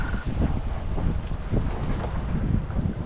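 Wind buffets the microphone in steady gusts while sailing in the Netherlands, with the low rush of water and a moving sailboat underneath.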